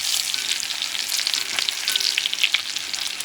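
Fresh thyme is stirred in a hot frying pan while cooking pompano fish, giving a steady, close, bright sizzle with faint scraping throughout and no talking.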